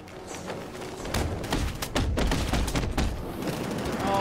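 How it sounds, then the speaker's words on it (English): In Batman: Arkham Knight, gunfire aimed at the player rattles out as rapid, dense bursts of shots. They are loud and close, building after the first second and running without a break. "they're gonna keep shooting me throughout the whole thing"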